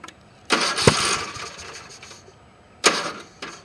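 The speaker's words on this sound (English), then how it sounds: "Right now I have the valve out, so hopefully the engine won't turn," A Briggs & Stratton small engine with a valve removed is cranked over in two short, noisy bursts of whirring and rattling, close and loud, separated by a brief pause and followed by a faint third burst.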